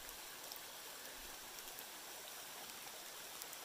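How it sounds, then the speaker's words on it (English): Water tumbles down small cascading falls in a soft, steady, fairly faint hiss that stays even throughout, with no talking. "Those cascading falls."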